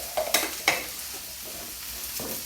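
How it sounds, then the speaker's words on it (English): Potato pocket ingredients with curry powder get mixed, a few sharp scraping stirs up front fading into quieter rustling against a low background hiss. "And you just mix your ingredients in."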